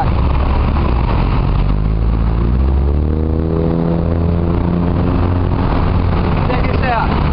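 A motorbike engine runs steadily while being parked at an outdoor durian festival in Thailand. The low, loud, continuous rumble has a slight rising and falling pitch.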